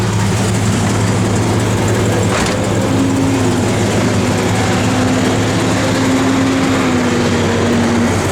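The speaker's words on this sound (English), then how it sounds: "blower motor works." A 1970 Plymouth Duster's blower motor runs with a steady, continuous hum and a faint tonal whine, holding an even level throughout with no voices.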